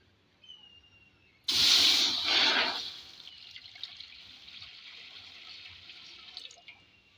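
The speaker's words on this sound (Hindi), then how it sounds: "सबसे पहले हम इसमें 4 लीटर पानी ऐड करेंगे।" A burst of water gushes into a large cooking pot for about a second and a half, then settles into a softer steady trickle with faint drips.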